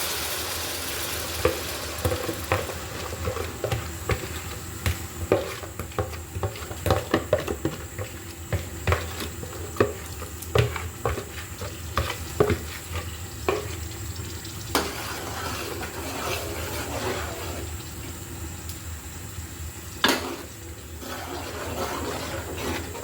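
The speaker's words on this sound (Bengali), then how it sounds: "মশলাটাকে খুব ভালো মতো কিন্তু কষিয়ে নিতে হবে।" Spices stir-fried in fish-frying oil for katla fish curry, a continuous sizzle broken by frequent spatula scrapes and knocks against the pan, close and moderately loud, no talk.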